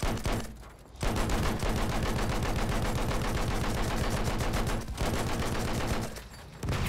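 Sustained automatic machine-gun fire in Battlefield 1, a loud rapid rattle of shots running almost continuously with a couple of brief pauses, with no talk over it.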